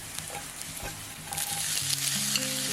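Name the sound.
stir-frying garlic in cooking oil until golden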